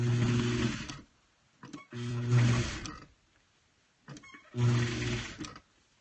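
A sewing machine top-stitches ruffled fabric flowers for a rag quilt pillow sham, running in three steady bursts with short quiet pauses between them.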